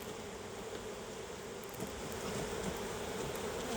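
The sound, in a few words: bees buzzing around a hive during inspection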